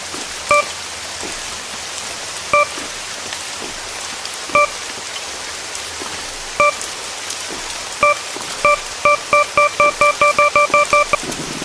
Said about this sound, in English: Great weather. I love the rain,